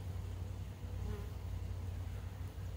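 A swarm of bees buzzing around a water meter outdoors, a steady, dense drone with a low hum that holds close and constant throughout, with no talking.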